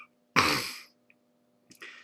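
A single loud throat clearing with a rough cough-like burst from a person with a cold, followed after a pause by a short, fainter throat-clearing noise.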